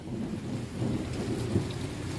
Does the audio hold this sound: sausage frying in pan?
no